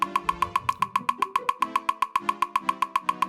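A metronome clicks very fast at about 450 BPM, sharp evenly spaced ticks over faint background tones, steady throughout.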